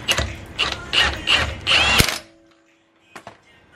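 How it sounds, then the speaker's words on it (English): An impact wrench tightens a lug nut on a Nissan 240SX wheel, firing several loud, close hammering bursts that end in a sharp final clack, followed by near silence and a brief faint rattle. "tighten it with the impact"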